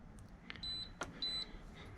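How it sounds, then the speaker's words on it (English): Two short, faint electronic beeps sound from the control panel of a Masterbuilt 1150 charcoal grill during pairing, evenly spaced high tones with a few soft clicks around them. "we've got a pair beep there, which is good"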